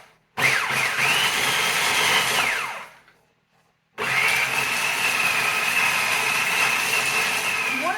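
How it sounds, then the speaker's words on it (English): An electric grinder runs twice, pulverizing dried wild mushrooms such as chanterelles and hen of the woods into powder: a loud, steady whirring burst, a brief pause, then a second sustained run. "Make sure you grind it to a fine powder, as fine as you possibly can get it."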